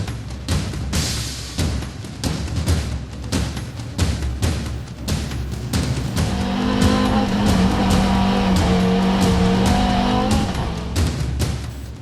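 Audi Quattro race car in the Unlimited class at Pikes Peak, its engine popping and crackling with rapid sharp bursts, then holding a loud sustained high-revving drone before easing back, all close and without talk.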